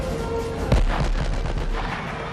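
Gunfire from the Die Hard film, a single heavy shot booming out over a dense, noisy action-scene soundtrack that keeps rumbling on afterward.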